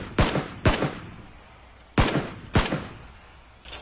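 Gunshots in the battle royale game PUBG: four loud single shots at irregular intervals, each with a sharp crack and a short echoing tail.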